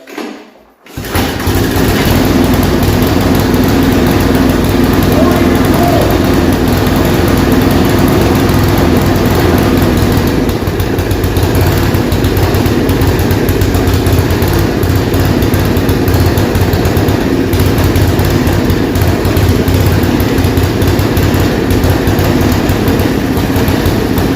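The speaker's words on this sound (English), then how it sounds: "I had to choke it and bring the idle right down" A small engine with a faulty ignition switch, run on choke with the idle turned down, starts abruptly after a second of quiet and holds a loud, close, steady drone to the end.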